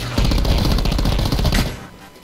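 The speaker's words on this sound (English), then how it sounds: "Shotgun." Rapid, loud gunfire in the Black Ops 4 video game, a dense burst of shots lasting about a second and a half before fading out.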